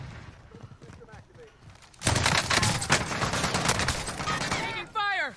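Video game gunfire rattles in sustained automatic bursts, loud and close, with players talking over it and a brief quieter stretch at the start.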